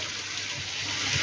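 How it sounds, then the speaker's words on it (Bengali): Water pours steadily in a short, soft stream as a little is added to a cooking pot of potatoes and eggplant, with a gentle continuous splashing and no speech. "ঢাকনাটা খুলে আমি একটু জল দিয়ে দিই"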